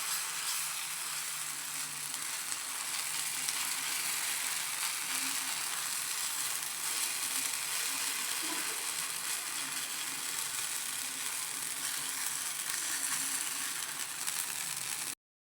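Small dosa-style batter rounds for a children's tiffin sizzle in oil on a hot tawa, a steady, even crackling hiss that runs without a break from start to end, with no voices.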